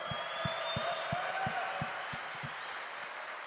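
A conference crowd at a Bitcoin event claps at a distance, with a soft, diffuse wash of applause and a few louder individual claps standing out.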